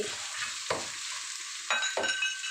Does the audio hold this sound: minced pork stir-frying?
yes